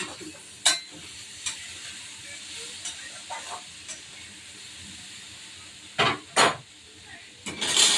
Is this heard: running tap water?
no